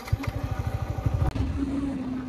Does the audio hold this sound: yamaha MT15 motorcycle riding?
yes